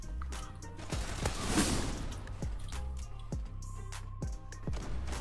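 Glock 18 pistol in the video game Zula firing in quick sprays of sharp cracks, with a cluster of rapid shots early and more spaced bursts after it, fairly quiet overall and with no talk.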